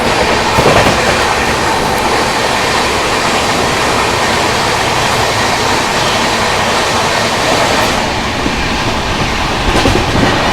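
From inside a 2AC coach of the New Delhi–Banaras Superfast Express as it overtakes another train, a loud, steady rumble and clickety-clack of wheels over rails runs throughout with no talking.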